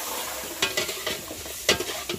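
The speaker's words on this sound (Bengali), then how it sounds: "মশলাটা ভাজা হয়ে গেল, এবার মাংসগুলো তুলে দিচ্ছে।" Meat frying in spices and turmeric in a pan while being cooked at a picnic in Digha: a steady sizzle broken by several sharp stirring scrapes, close by, with no voices.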